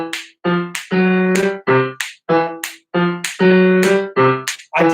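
Solo sung bass line from a choir piece, a single close voice delivering short separated syllables in a steady rhythm with brief pauses between notes.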